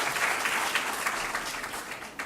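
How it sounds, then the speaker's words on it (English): Audience applause at a journalism and mass communication school orientation session, a steady, moderately loud wash of clapping from a seated crowd lasting the whole short stretch without voices. "give her a big hand"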